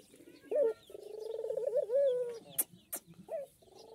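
A pet fakhta dove in a village mini zoo coos close by in a few soft, tonal calls, with a short gap and one last coo near the end.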